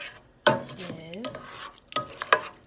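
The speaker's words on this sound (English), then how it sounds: "stir this about" A spoon stirs a pot of seasoned yellow rice with red beans, giving several scraping, clattering strokes against the pot over a soft sizzle, with a person talking between the strokes.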